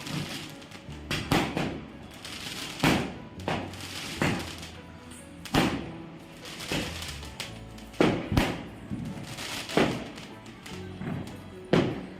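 Diwali fireworks and firecrackers go off in a string of sharp bangs and thumps at irregular intervals, some near and loud, others fainter, against background noise.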